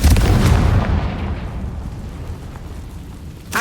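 A fiery Confringo spell blast in Hogwarts Legacy hits as a deep, loud boom that rolls off into a fading rumble.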